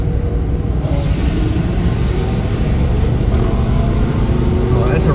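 A drag race car launches with brake boost in a roll race, a loud, continuous engine roar dominating up close while voices talk underneath.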